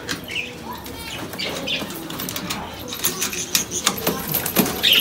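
Pigeons flap their wings in quick bursts, close by, with soft chirps and scattered rattling clatter among the beats.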